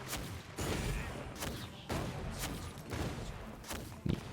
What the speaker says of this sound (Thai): นี่ใช้สกิลให้มันระเบิดใส่ถังนะครับผม